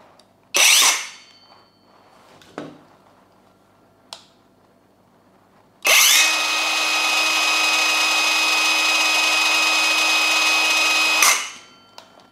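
A Dongcheng DCMY125 cordless brushless mini circular saw runs at low speed, giving a loud, steady, high whine for about five seconds that stops abruptly. A few sharp clicks and a brief burst of motor noise come before it.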